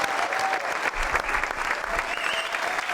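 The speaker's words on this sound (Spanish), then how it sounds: "Un gran aplauso para Javier Primo." An audience bursts into full applause, dense and sustained clapping at close range with a faint murmur of crowd noise beneath.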